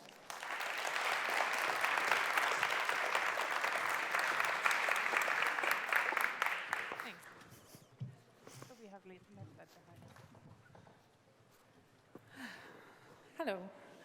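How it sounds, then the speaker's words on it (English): Loud, dense applause from a conference audience at a space resources event in Luxembourg, lasting about seven seconds before fading out, followed by quiet room sounds and scattered voices. "give a round of applause, those present, for Frankie and Aidan to explain more"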